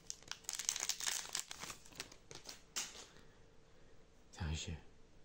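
Foil wrapper of an Upper Deck Series One 2022-23 hockey trading card pack crinkles and tears in quick, soft bursts over the first few seconds, then a brief louder rustle follows near the end; quiet and close, with no talking.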